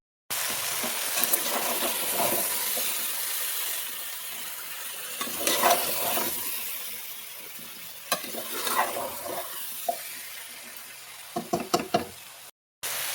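Chopped vegetable pieces, coated in salt and chili powder, fry in oil for a village-style vegetable curry, giving a soft steady sizzle broken by occasional spoon knocks and stirring scrapes, with no talking.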